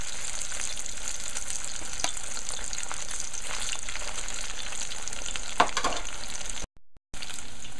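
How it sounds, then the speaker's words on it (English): Curried smelt fish frying fast in hot oil, a loud, dense, unbroken sizzle with a faint knock before a short drop to near silence and a return. "the oil is nice and hot, so this is gonna fry very fast."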